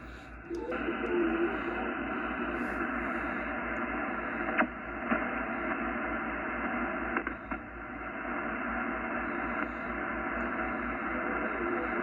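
Steady hiss and static of a Yaesu FTDX-10 radio receiver's high noise floor, an even wash of band noise running throughout with a few faint clicks and brief crackles, no voices.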